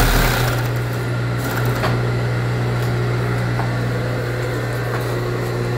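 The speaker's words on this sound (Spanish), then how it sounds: "La máquina está trabajando de nuevo." A sewing machine motor hums steadily after its brake cork was replaced, a constant low drone with a faint higher whine running close and uninterrupted.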